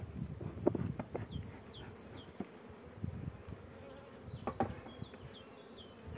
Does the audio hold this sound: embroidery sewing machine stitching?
no